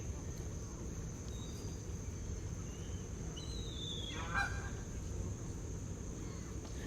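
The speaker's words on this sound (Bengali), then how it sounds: "এখানকার পানিতে ডোবায় মানে ছেড়ে দেওয়া হাঁস কিন্তু কি দেখেন শান্তিতে ওরা ঘুরে বেড়াচ্ছে" Free-roaming ducks swim on a rainy village pond, giving a few faint, brief quacks and honks over a constant low background hiss.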